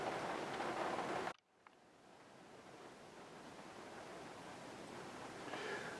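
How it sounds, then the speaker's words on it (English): Rain patters steadily on a skylight overhead, a soft, even hiss that stays faint and constant after a brief louder noise at the start. "it's raining, so it's raining on my skylight up here and making some little noises"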